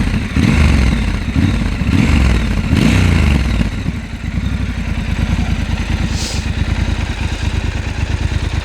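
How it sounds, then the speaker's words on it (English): A 2019 Triumph Scrambler 1200 XE's engine is blipped several times in close succession, each rev swelling and falling, then settling into a steady, throbbing idle nearby. "Give it a little rev."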